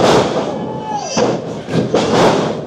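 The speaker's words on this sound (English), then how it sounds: "Big neck breaker" A wrestler's body slams onto the ring mat from a neck breaker during a live pro wrestling show, a heavy thud buried in loud crowd roar that stays noisy throughout.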